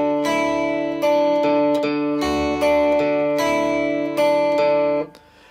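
A slow guitar melody of a handful of sustained notes, each ringing clearly into the next, close and fairly loud before fading at the end.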